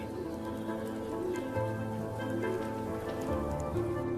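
Steady rain falls over Venice as high tides and Scirocco winds threaten flooding, a constant dense patter on stone and water with no voices, even and close throughout.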